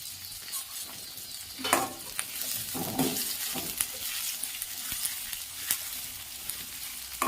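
Long-cut onion and curry leaves sautéing in oil after mustard seeds have popped: a soft, fairly quiet sizzle with intermittent clinks and scrapes of stirring, no speech.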